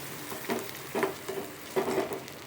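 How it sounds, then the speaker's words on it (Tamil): Finely chopped onions sautéing in a pan, being stirred and turned in a soft continuous sizzle with several louder scraping bursts at a steady, unhurried rhythm, close and fairly quiet, with no talking. "இது கொஞ்சம் நல்லா வதக்கி விடுவோம்."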